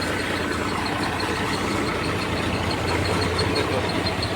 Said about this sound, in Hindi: इंडिया की शान ट्रैक्टर।